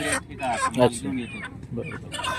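Chickens packed in crates at the Salegaon bull market, a rural livestock market, cluck and squawk in uneven bursts, close and fairly loud, with people talking over the birds.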